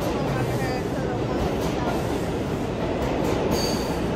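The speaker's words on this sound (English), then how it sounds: "Now we back on the subway. Headed to the World Trade Center." New York subway train riding toward the World Trade Center, a steady loud rumble of wheels and car noise throughout with faint squeals, no talk in the clip.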